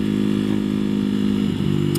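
A 125cc Masai Scrambler motorcycle engine idles steadily up close, a dense, even mechanical drone with a brief dip in the middle, heard alone.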